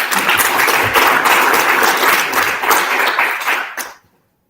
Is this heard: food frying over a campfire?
no